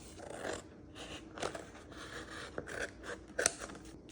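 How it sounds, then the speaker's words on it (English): Scissors snip through folded paper in a series of short crisp cuts with brief pauses, close and quiet, used for a Halloween pumpkin craft. "We're gonna fold it in half and then we're gonna go ahead and cut that as well."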